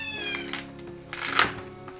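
A cat meows close by in a home kitchen during cooking, a short clear cry over a steady background hum and clatter.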